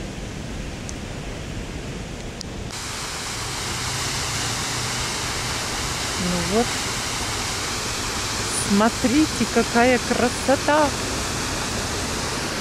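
Illuminated waterfalls at night in Antalya, Turkey, give off a constant broad roar of rushing water that swells slightly and stays steady, while nearby people talk excitedly over it.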